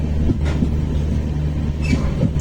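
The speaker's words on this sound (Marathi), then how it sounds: "अजून पण आपण ट्रेनमध्येच आहे" Steady low rumble of a moving train heard from inside the carriage, with occasional faint clacks and squeaks over the continuous drone.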